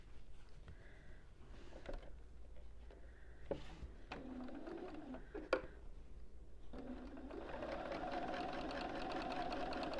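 A sewing machine chain-pieces tiny quilt pieces for an autumn postcard quilt without cutting the thread between them. Short whirring runs start and stop, then build to a steady, continuous motor hum near the end, with no talking.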